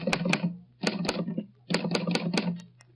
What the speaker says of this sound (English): I'll type out the exact phrase for you now on my Underwood typewriter.